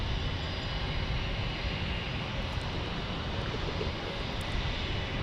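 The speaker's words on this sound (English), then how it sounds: "Got a private jet here." A private jet at San Diego airport gives a steady, loud engine roar with no break, heard from nearby at night.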